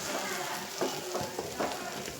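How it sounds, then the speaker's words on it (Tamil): Quail egg gravy is stirred in a pan, with a low bubbling sizzle underneath and a few soft spoon scrapes against the metal, close and fairly quiet. "இப்போது இதை எப்படி இருக்குதுன்னு நம்ம கிண்டி பார்க்கலாம்"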